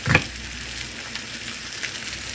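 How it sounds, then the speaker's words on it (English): Cut squash sizzles steadily in a hot pan, a continuous close hissing fry with a brief clatter at the start and faint crackles throughout. "I'm going to cut all the squash, throw it in the pan"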